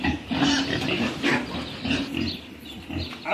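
A herd of pigs on a farm crowd in at feeding time, grunting and squealing close by in overlapping bursts, a busy noisy jumble with no speech.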